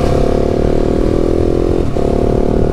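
A KTM 690 SMC-R motorcycle with a loosely fastened exhaust roars with a loud, steady engine note that dips briefly and then picks straight back up, close to the listener.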